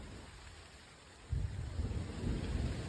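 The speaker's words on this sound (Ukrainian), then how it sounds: "Ой, гримить." Thunder rumbles in outdoors while a bouquet is being made, a low faint roll that suddenly swells about halfway through and continues as a heavier rumble, with no talk over it.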